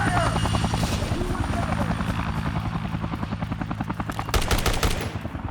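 Helicopter rotor thumping in the Dead Rising Deluxe Remaster video game, with rapid bursts of machine-gun fire chattering over it; a steady loud drone with dense repeated shots building toward the end, and a voice talking underneath.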